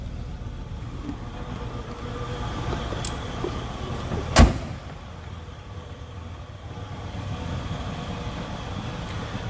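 Stock 1979 Lincoln Town Car engine idling with a low steady rumble, interrupted by a single sharp door-like thud partway through.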